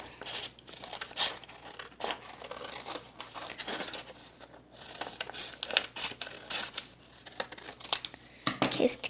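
Scissors cut through folded paper while making a pencil-topper paper flower, giving close, crisp snipping and crinkling with irregular bursts of rustle, fairly steady over several seconds.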